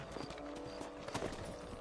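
Horse hooves clip-clop in a steady trotting rhythm in Red Dead Redemption on a ranch, moderately close and alone over soft game ambience.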